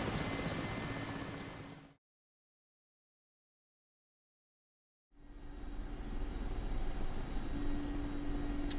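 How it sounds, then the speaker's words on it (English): Mi-24 helicopter engine and rotor in a flight simulator, a steady broadband drone that runs for about two seconds, drops out to silence for three seconds, then returns at a similar, slightly louder level. "let's have a look at the Virpil collective throttle part on the MI24."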